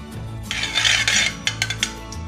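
Small spoonfuls of ghee go into a kadhai on a gas stove over low flame. A few close metallic clinks and scrapes of the spoon against the pan, with a brief denser burst of contact, and no talking.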